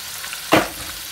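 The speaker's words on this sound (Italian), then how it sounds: "facciamo friggere le nostre zucchine" Sliced zucchini fry in corn oil in a pan, giving a steady sizzle with one brief louder hiss as the pieces hit the hot oil.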